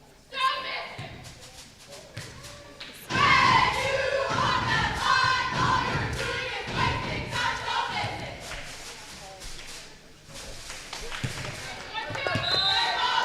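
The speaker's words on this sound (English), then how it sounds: "You can hear the cheer team going so loud." A cheer team yells and cheers loudly at a varsity basketball game between Maryvale and SPSG, with loud, sustained crowd noise, ball bounces and shoe squeaks, plus nearby talk.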